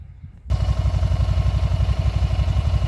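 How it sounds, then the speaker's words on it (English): A 2011 Can-Am Spyder RT engine fires up after a brief quiet moment, then settles into a loud, steady, throbbing low rumble close by. "let me crank the bike up"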